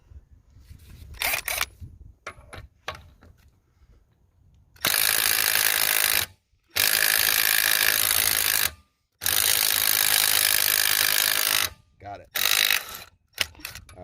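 A Milwaukee M12 3/8-inch cordless impact wrench hammering on car lug nuts in a torque test, three loud sustained rattling bursts of a few seconds each, separated by short pauses, with clicks and handling noises before and after.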